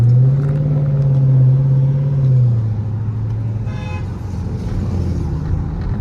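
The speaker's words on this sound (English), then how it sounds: "Why do people be honking?" A car horn sounds in city traffic, a steady low blare held for about two seconds then dropping to a lower rumble of vehicles, with engine noise filling the rest of the clip.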